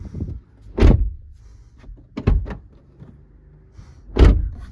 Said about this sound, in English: simply push down and push the door open